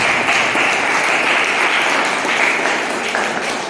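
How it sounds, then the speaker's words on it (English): Dense, steady applause from a club meeting audience fills the room throughout, loud and continuous with no pause. "A big round of applause to everyone who's here."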